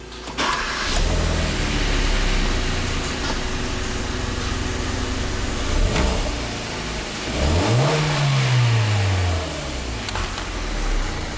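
A Hyundai Veloster Turbo engine starts and settles into a loud, steady run close by, with a brief rev rising and falling near the end.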